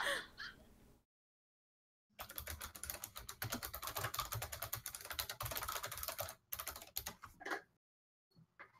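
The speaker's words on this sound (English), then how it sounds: "Yeah, it's a mechanical keyboard, right?" A loud mechanical keyboard clacks in rapid, dense bursts of typing, close and crisp, broken by a few short pauses of silence.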